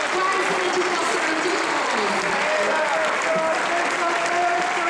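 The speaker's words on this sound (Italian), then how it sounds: "Un applauso da curva." Stadium-style crowd applause at the presentation of the Treviso 2011-2012 first team: loud, continuous massed clapping mixed with scattered shouts and cheering voices, sustained without a break.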